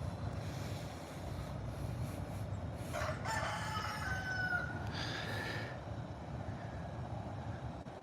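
A young rooster in a garden lets out a single thin, strained crow in the middle of steady low background rumble, fairly close but not loud.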